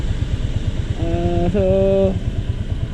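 A Honda TMX Alpha motorcycle engine chugs in a steady, rapid beat, close by, with a higher tonal whine rising briefly in the middle and a few spoken words.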